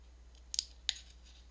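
Scissors trim an old paper photograph, two faint quick snips close to the microphone in a quiet room.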